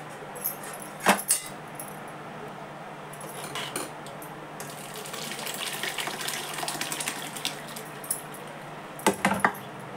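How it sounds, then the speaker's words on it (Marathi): Wheat liquid being strained into a second pot while making kurdai, with steady trickling and pouring water, clinks and scrapes of metal vessels, and louder clattering bursts near the start and the end. "ते मी आता ह्या दुसऱ्या पातेल्यात गाळून घेते."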